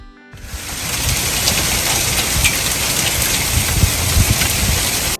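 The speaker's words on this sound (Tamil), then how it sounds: "என்னடா சத்தம்ன்ட்டு பார்த்தாக்கா வெளியில் ஐஸ் மழை கொட்டிட்டு இருந்துச்சு" Heavy hail pours down outdoors in Calgary, Canada, a loud, dense, constant hiss and patter of ice striking surfaces that lasts the whole stretch, with no voices.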